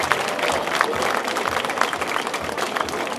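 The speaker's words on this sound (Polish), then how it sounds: "Wielkie brawa dla organizatorów." Sustained applause from an outdoor concert crowd at a village rooftop concert in Kłączno, Poland, a loud, even wash of clapping that carries on without a break.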